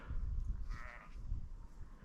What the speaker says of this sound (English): One or two sheep about.